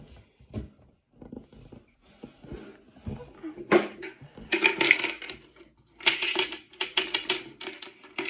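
Coins clink and jingle close by in irregular bursts, as if being shuffled and poured around, growing busier toward the end.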